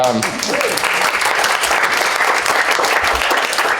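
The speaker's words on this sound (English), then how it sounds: "yes, applause" Audience applause at a democracy conference, Frontiers of Democracy 2017: dense, steady clapping from a large crowd that fills the room evenly from start to finish.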